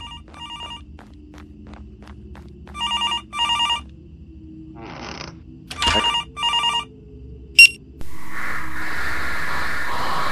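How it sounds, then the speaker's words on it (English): A telephone rings in the horror video game Graveyard Shift, repeated electronic double-burst rings at regular intervals, loud and clear, followed by a click and steady static hiss. "we got a phone ring"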